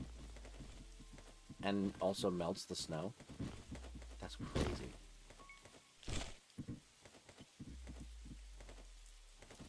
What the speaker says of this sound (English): Make it rain for the first time.